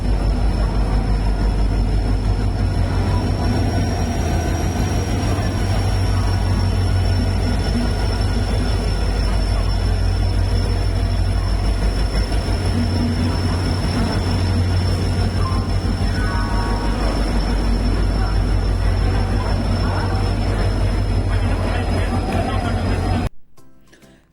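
A train rumbles steadily past station platforms, low wheel noise and rattling carriages filling the clip, with a faint high whine running through until it cuts off near the end.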